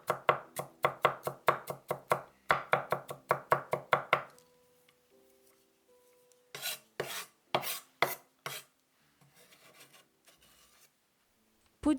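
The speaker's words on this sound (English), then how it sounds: "Chop 5 cloves of garlic." A knife chops garlic cloves on a board in quick, even strokes, about two dozen crisp close knocks. A pause with faint handling follows, then a shorter run of chops.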